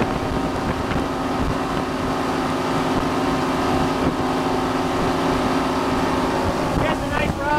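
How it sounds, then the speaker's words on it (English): A 1989 Mako 261 motorboat engine drones steadily at speed during a sea trial, with wind buffeting and water rushing beneath the hull throughout. "So you guys can hear the engine."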